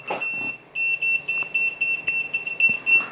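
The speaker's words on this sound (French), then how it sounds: "si jamais il y a du courant dedans, elle se met à biper" A high electronic beep pulses in rapid, uneven bursts from a wire stripper detecting a live wire, steady in pitch and close, with faint handling noises beneath.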